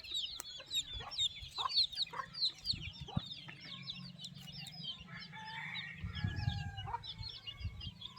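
A hen clucks softly while about eighty chicks peep constantly in high, busy chirps, quiet and close by.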